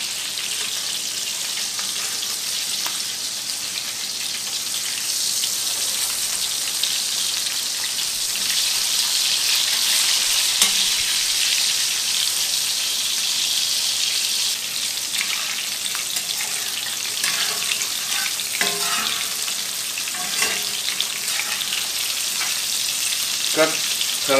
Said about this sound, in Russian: И также обжариваем с другой стороны.